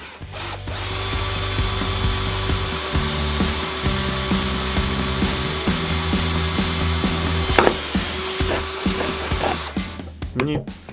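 A drill bores a hole through plastic with a loud, steady whining drone and grinding rasp, its pitch stepping down in places before it stops; a few clicks and knocks sound near the end.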